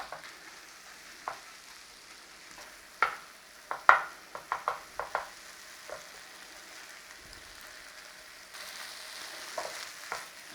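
Mince with oats and spices frying in a pan for a Scottish Highland pie, with soft continuous sizzle and scattered scraping clicks as it is turned over, fairly close and without talk.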